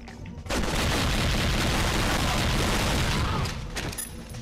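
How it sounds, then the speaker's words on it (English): Heavy gunfire and explosions in the video game Agent Under Fire, a dense, continuous burst of rapid shots and booms starting abruptly and holding loud for several seconds before tapering off. "Gotta wonder what people are thinking when all this gunfire is going through all the streets at once"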